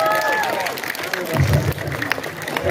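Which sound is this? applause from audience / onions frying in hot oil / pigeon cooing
applause from audience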